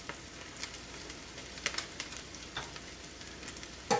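Filipino lumpia fry in hot oil in a pan, giving a steady, quiet close-up sizzle with scattered small pops and a brief clatter near the end.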